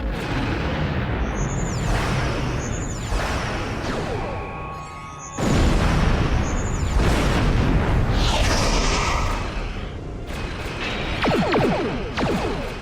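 Starship combat in the Star Trek Online game with a plasma torpedo fired and exploding, a dense layer of rumbling weapon blasts and booms, a heavy surge midway and whooshing effects, loud and continuous.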